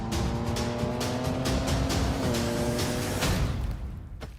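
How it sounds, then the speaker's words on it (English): A 2024 Ford Ranger pickup truck drives with a steady, loud engine drone whose tonal hum shifts gently in pitch, close and continuous throughout, easing off slightly at the very end. "The all-new 2024 Ford Ranger."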